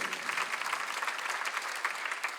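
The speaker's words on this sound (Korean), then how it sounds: "박수를 치며 하나님께 영광을 돌리세요" A church congregation claps together during a Sunday worship sermon, a steady dense patter of hands filling the room at moderate loudness without pause.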